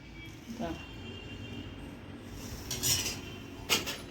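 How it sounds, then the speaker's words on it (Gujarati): Ghee being stirred into gram flour in a bowl for Mysore pak, soft scraping of a spoon with a few sharp metallic clinks against the bowl, close by, while a voice talks over it. "એને બધું મિક્સ કરી દેવાનું છે"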